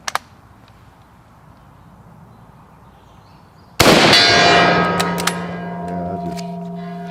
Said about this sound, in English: I just feel like I need to hit the gong again.